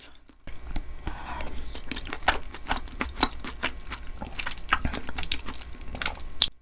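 Close, wet chewing and soft biting of beef tripe tteokbokki continue rhythmically, with squishy mouth sounds and occasional light clicks, no talking.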